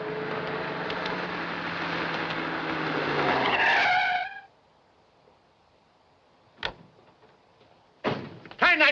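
A car in a 1940 film drives off with a loud, roaring engine and a rising squeal of tires for several seconds, then fades away, followed later by a few sharp bangs and clatters.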